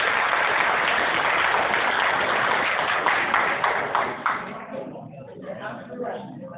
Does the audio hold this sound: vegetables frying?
no